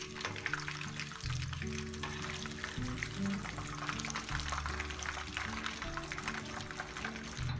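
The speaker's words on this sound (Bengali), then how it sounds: "এভাবে এক এক করে আমি সবগুলো কাবাব ভেজে ফেলব" Jali kebabs fry in hot oil, a steady soft sizzle and crackle that continues close by and fairly quiet, with no talking.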